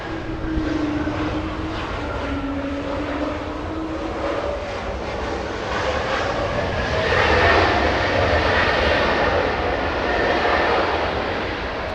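Delta 708 jet airliner arriving at Los Angeles International Airport, a loud steady engine roar with a broad rushing wash that swells toward the end, heard without any talk.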